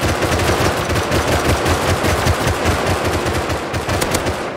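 Rapid automatic gunfire in the video game Rust, a loud, sustained burst of fast repeated shots hammering without pause for several seconds.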